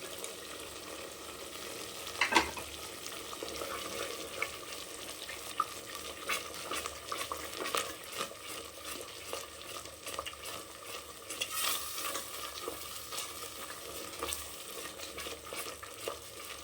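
Egg curry gravy mixed with curd being stirred in a pan, heard as a continuous bubbling sizzle with repeated light scraping and clinking of a spoon against the pan, close and steady throughout.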